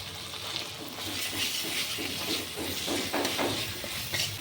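Small onion curry masala with dried chilli powder and amchur powder sizzling and being stirred in a pan, a steady close hiss with scraping stir strokes and no voices.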